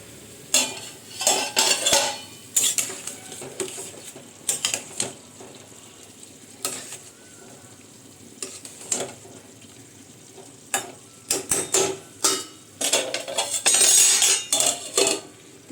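Cauliflower curry cooking in a pan, with a quiet background sizzle broken by repeated sharp scraping and clattering of a metal spatula stirring against the pan, in irregular bursts up close.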